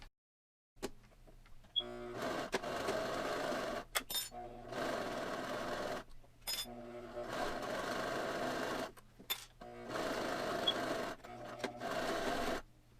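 A sewing machine stitches a reusable grocery bag in several loud, close bursts of rapid mechanical whirring, separated by brief pauses and clicks.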